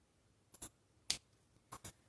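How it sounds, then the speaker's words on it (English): Small scissors trimming a stray paintbrush hair in a ceramic painting class, three close, crisp snips, the first a quick double, in an otherwise quiet room. "you have a scissors? Because there's a little stray guy on here and I'm cutting him off"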